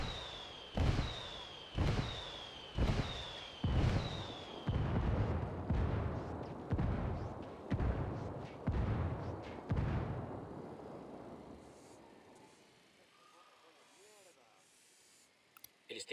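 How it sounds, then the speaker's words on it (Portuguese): A rapid series of heavy booming artillery blasts in Ghost Recon Wildlands, about ten in a row at a steady pace, then fading rumble and quiet debris-like crackle. "Estou pedindo por disparos indiretos."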